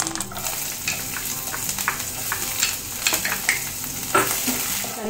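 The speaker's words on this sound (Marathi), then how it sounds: "कढीपत्ता छान तेलात परतून घेतो आहे आपण।" Curry leaves sizzle and crackle in hot oil in a kadai, with a steady frying hiss and occasional stirring scrapes, close-up and without talk.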